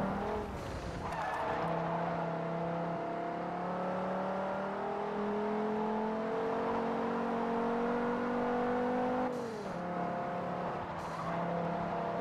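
A race car engine in Forza Horizon revs hard and steadily under continuous acceleration, with pitch climbing through the gears, brief drops at shifts and faint tire squeal, loud and close throughout.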